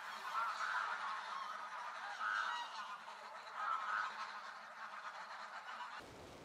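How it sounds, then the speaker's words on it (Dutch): A huge flock of greylag geese honks in repeated overlapping bursts, heard from a bird hide at De Oelemars near Losser, moderately distant and steady against a soft background, cutting off abruptly at the end. "Een groep grauwe ganzen. Een enorme groep grauwe ganzen."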